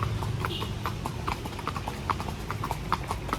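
Hooves of Bablu, a horse ridden around the Kodaikanal Boat House, clip-clop in a steady, brisk rhythm close by, with a low rumble of ambient noise underneath.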